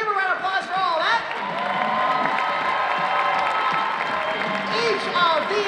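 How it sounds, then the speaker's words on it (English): A crowd claps and cheers with scattered whoops at a cosplay contest awards ceremony, the applause steady and lively throughout. "Give a round of applause for all that."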